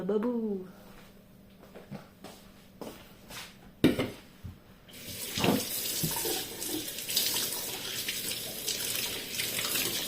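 A faucet runs into a kitchen sink on a rainy day, water splashing steadily and fairly close after a few knocks and clatters, while a person talks.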